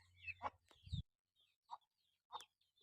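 Chickens at a backyard duck and chicken coop give a few soft, short clucks, faint and spaced out with quiet gaps between them.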